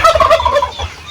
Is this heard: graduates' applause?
no